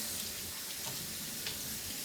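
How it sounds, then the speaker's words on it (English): Running water pours steadily over a robot vacuum's mop pad being washed after mopping a dirty floor, a continuous close hiss like a faucet into a sink with no break. "I'm going to wash the mop pad."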